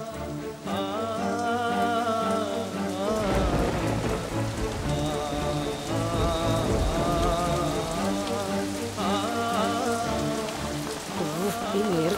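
Steady rain falls gently throughout, a continuous wash under prominent music.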